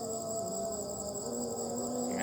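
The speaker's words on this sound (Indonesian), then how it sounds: "Serangga-serangga, jangkrik," Night insects and crickets in a dark graveyard keep up an unbroken, layered chirring drone with several steady high tones. The chorus is fairly close and uniform, and no one speaks.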